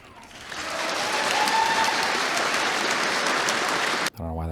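A debate audience breaks into applause that swells quickly from a soft start to a full, sustained roar, cutting off abruptly near the end.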